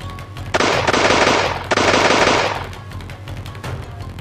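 Anime-style battle gunfire between two armies in cold, dry Fukushima air: two loud, dense bursts of rapid machine-gun fire, each lasting about a second, followed by fading echoes and a faint trailing rattle.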